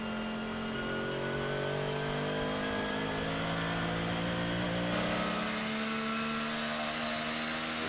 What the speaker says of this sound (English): Again on board the Klaus Backler car